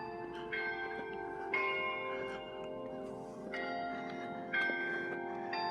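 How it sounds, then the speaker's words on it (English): Methodist church chimes ring out the hour in a series of overlapping bell strokes at a steady pace, moderately distant and resonant, heard alone without talk. "we have the beautiful Methodist chimes chiming out at the hour and the half hour"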